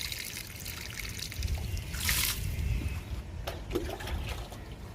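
Water is poured from a container onto potted plants, a close, steady trickle and splash with a few brief gurgling bursts, and no one talks.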